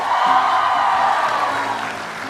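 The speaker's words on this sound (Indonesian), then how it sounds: "Tunggu, tepuk tangan dulu dong buat Say." A television studio audience claps and cheers in a short, loud burst that tapers off slightly over a couple of seconds, without speech.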